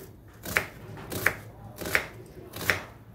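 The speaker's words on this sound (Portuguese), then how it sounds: "Eu cortei a cebola assim na metade." A kitchen knife chops onion lengthwise on a board: four crisp, evenly spaced chops about three-quarters of a second apart, close and clear with no talking.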